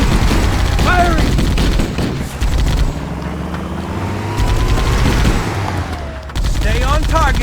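Rapid automatic gunfire and weapon fire in the video game Halo: Combat Evolved, loud and sustained throughout a chaotic battle, with game voices and explosions mixed in.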